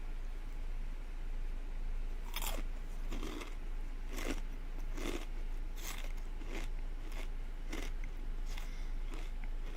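Takis spicy rolled tortilla chips crunched in a series of sharp, close bites about once a second, loud and crisp against a quiet background with no talking.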